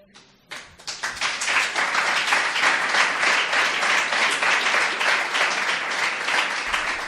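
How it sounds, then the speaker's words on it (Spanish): Conference audience at a criminology congress breaking into sustained applause after a short quiet lead-in, dense clapping that swells quickly and holds steady until the end. "Yo quería que, para despedir esta ponencia, diésemos un profundo aplauso a estas personas que no están con nosotros, a Iván Durán,"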